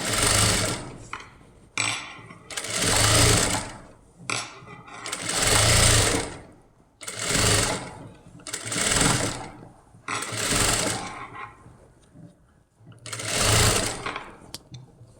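A sewing machine stitches fabric for a kids' crop top in repeated bursts of fast whirring, each lasting one to two seconds, with short pauses between them, close and loud.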